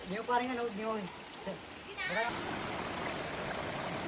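Shallow water trickles and flows beneath rocks in a forest stream with a steady hiss, while someone talks over it in the first half.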